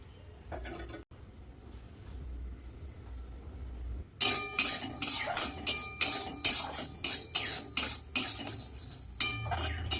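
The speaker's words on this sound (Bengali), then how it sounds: "সবার প্রথমে শুকনো খোলায় আমি মুগ ডালটা ভেজে নেবো" Mung dal dry-roasted in a hot pan with no oil, quiet at first, then a spatula scrapes through the lentils in a steady rhythm of repeated strokes against the metal.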